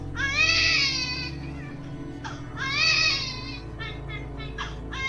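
An infant cries in two loud wailing bursts and then a few shorter sobbing cries in a horror drama, set over a steady low background hum.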